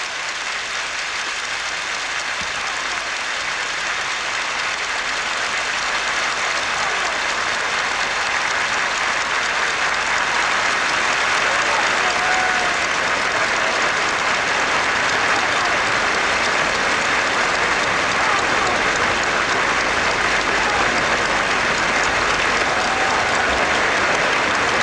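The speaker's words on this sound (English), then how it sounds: "A round of applause from everybody in the stadium." A stadium crowd at the National Day Parade applauds, with dense, continuous clapping that fills the space at a loud, even level for the whole stretch and no break.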